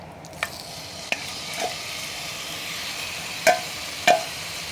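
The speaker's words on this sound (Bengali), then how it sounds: "চিকেনটা আমি তেলের মধ্যে দিয়ে দিচ্ছি" Marinated chicken frying in hot oil over medium heat, a steady low sizzle broken by a few sharp pops and spatters, close and alone with no talk.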